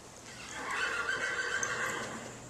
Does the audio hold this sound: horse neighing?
yes